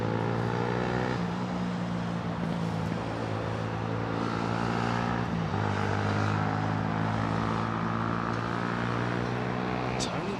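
A Qatar Airways Boeing 777 jet roars steadily at London Heathrow, a loud continuous engine drone with shifting tonal whine that fills the whole stretch.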